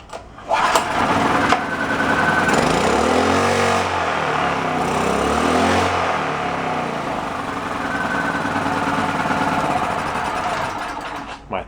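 A secondhand small generator engine from a yard sale runs loud and close with the choke on, a steady buzzing drone that sputters at the start and wavers in pitch throughout.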